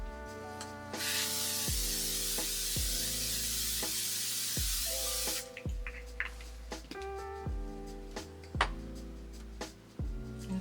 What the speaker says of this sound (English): we're gonna go in with a fixing spray, and this is the L'Oreal Infallible